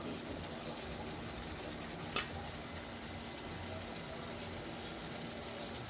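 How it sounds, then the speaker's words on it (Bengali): Onions being stirred in a pan on an induction stove, a steady soft sizzle and scraping texture running throughout with one brief louder clink near the middle, no talking. "হালকা একটু নাড়াচাড়া দিয়ে দিচ্ছি যাতে পেঁয়াজটা নিচ থেকে লেগে না যায়।"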